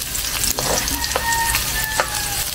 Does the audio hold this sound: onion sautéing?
yes